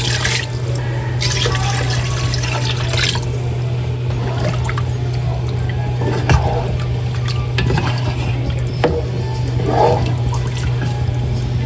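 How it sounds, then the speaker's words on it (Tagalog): Water poured into a pot of chicken arroz caldo rice porridge, a steady continuous splashing and trickling with a low background hum throughout. "Ito po yung akin lang lalagyan ng tubig."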